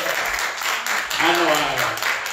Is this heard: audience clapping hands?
yes